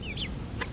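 A frizzle rooster gives a few quick, close clucks and short calls in under a second, calling hens to food against a steady background hiss.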